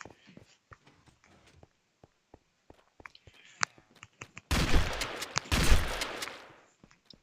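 Scattered sharp clicks give way to a loud, dense burst of video-game gunfire lasting about two seconds, then a few more isolated shots.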